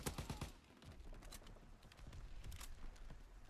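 FG42 automatic rifle fire in Call of Duty: WWII, a couple of quick bursts of shots up front followed by sparser single reports and mechanical clatter, fairly quiet overall.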